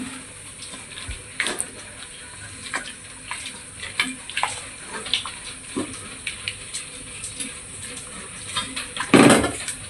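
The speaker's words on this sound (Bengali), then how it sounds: "এখন এর ভিতর আমি দুধগুলো ঢেলে দিব।" Milk is poured into a heated pot, a continuous gurgling, splashing stream with small clinks of the vessel, building to a louder splash near the end, close by.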